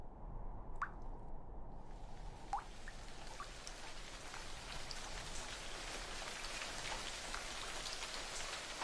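Steady rain falls during an airsoft match in an anime scene, a dense even hiss with scattered drips, and a couple of brief tonal sound effects stand out near the start.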